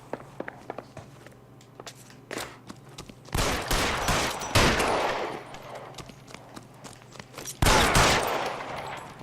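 Gunshots in L.A. Noire ring out in scattered single cracks, then two dense loud volleys of fire with echoing tails, mixed with footsteps and faint background noise.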